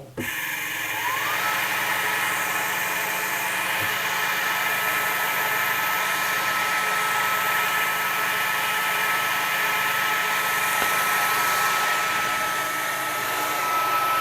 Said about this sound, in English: as soon as I turn on the laser machine with my remote control socket